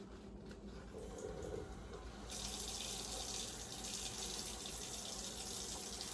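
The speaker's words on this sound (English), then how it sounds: "So for washing my hand, I need to turn on the water with a paper towel." Water running steadily from a sink tap in a lab ante room, turned on by hand for washing; the flow starts moderate and grows louder and brighter after a couple of seconds, continuing alone.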